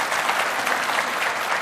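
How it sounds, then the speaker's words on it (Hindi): Steady, dense applause from a studio audience at a televised Hindi debate show, many hands clapping at once in an even, unbroken wash with no voices rising above it. "तालियां बजाइए भाई, आपकी टीम से आए थे।"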